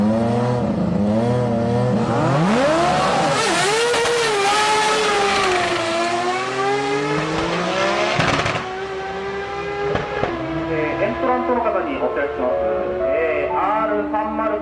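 An RE Master Cosmo drag racing in a video game revs loudly, with engine pitch climbing and dropping through repeated gear changes. A steady engine drone runs throughout, with no speech.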